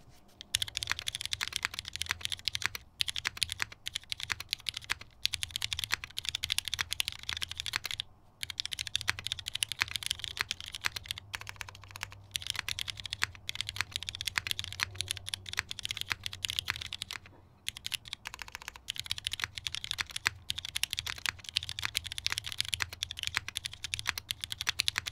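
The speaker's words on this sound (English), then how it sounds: "Can you hear the keyboard? Hear that?" Rapid, continuous typing on a custom Blue Hive60 mechanical keyboard with NK Yellow switches, close and crisp, with brief pauses between bursts of keystrokes and a low background hum.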